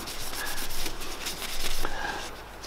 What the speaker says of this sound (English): you can see that I'm changing the areas of the cotton towel where I'm buffing.